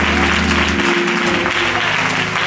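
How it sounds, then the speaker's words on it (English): Audience applause fills a women's ministry winter conference hall, steady dense clapping over sustained music and a faint voice underneath. "Somebody clap your hands with Jesus."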